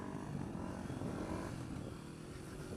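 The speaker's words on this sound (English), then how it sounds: "I'm going to try do a hill climb test on the CRF150L." Honda CRF150L dirt bike engine droning steadily under load during a steep hill climb, a continuous close mid-pitched motor roar with no pauses.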